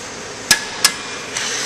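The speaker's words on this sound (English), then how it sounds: "now we need to tighten down the jam nut" A drive axle wheel end jam nut is tightened with sharp metallic strikes: two close, distinct hits and a fainter third, each brief and ringing over quiet background hiss.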